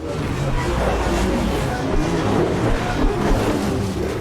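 A flying taxi car cruises in the Mass Effect 2 video game, giving a steady, loud engine drone and hum that stays even throughout with no breaks.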